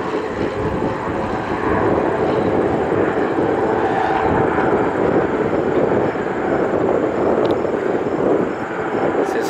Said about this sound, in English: This is another King Air landing.